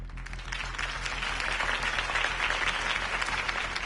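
Crowd applause rises after a campaign speech for Harvey Dent in the Batman Telltale game, a dense, steady wash of many clapping hands, fairly loud and continuous with no talk over it.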